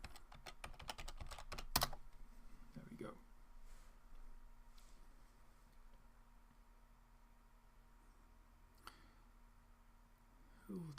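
Quick keystrokes on a computer keyboard, a short burst of rapid taps at the start followed by a single sharp key press, then near-silence with faint scattered clicks.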